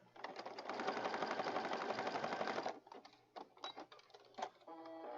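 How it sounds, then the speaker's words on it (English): A sewing machine stitches across the top of a paper tag for a junk journal, a loud steady mechanical whir for about three seconds, then a few short stop-start bursts and clicks. "we're going to stitch on the top of this tag"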